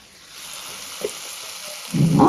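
Garlic drops into a hot pan for a fish goulash and starts to sizzle, a quiet frying hiss that swells into a louder crackle near the end.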